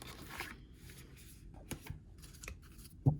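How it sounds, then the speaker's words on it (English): Soft papery riffles and shuffles of tarot cards being mixed by hand, quiet and intermittent, with a few sharper taps and a thump at the end. "we're going to start shuffling"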